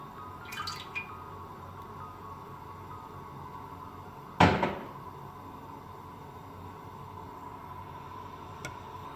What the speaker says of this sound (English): So I'm adding some coconut oil here.